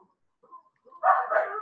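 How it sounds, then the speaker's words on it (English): Several dogs bark in the background, a few faint yips first and then a louder burst of barking toward the end, with no one talking. "I apologize for the dogs in the background"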